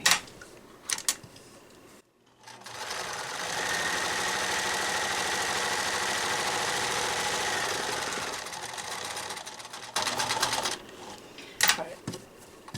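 A sewing machine stitches a DIY pocket filter mask at a shortened stitch length, a close, steady mechanical whir lasting about eight seconds, framed by brief clicks and handling noises before and after.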